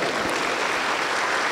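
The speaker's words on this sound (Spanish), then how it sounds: "Aplauso para el Señor Jesús" A church congregation applauding steadily, dense and even clapping filling the space for a moment, fairly loud and without speech.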